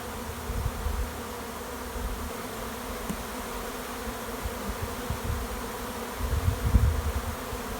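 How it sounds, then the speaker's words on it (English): A thick, continuous hum of honeybees up close as they are shaken off brood frames into a cell starter box, with soft low bumps and thuds now and then beneath the buzzing. "Brood, I'm going to shake the bees off."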